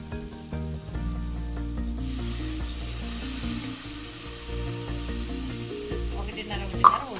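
Coconut milk poured into a hot pan of oil for pulao, giving a strong continuous sizzle and bubbling that shifts as the liquid goes in, with a brief clatter near the end.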